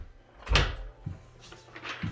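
French closet doors in a bedroom are opened, giving a few soft knocks and a muffled thump spaced about half a second to a second apart, close by in a quiet room.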